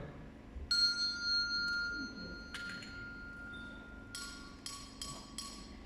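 Carillon bells in Pretoria ring out in sparse, clear tones, a single sustained note followed by a short run of four quick bright strikes, moderately distant over a low background hum.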